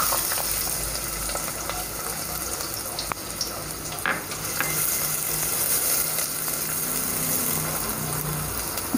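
Onion frying in hot oil with whole spices, a steady close-up sizzle broken by a few sharp clicks and stirring sounds.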